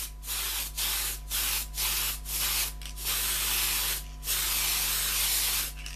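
Base primer sprays from a can onto plastic model kit sprues for a USS Enterprise build in repeated hissing bursts of about half a second to a second each, separated by short pauses, close and fairly loud over a steady low hum.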